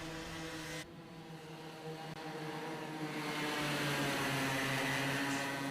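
Small 2-stroke Bambino kart engines, about 2 horsepower each, drone steadily at a kart club race meeting, a thin buzzing whine that swells louder as the karts draw nearer, with no voices over it.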